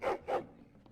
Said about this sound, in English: Happy little dog, though, isn't he?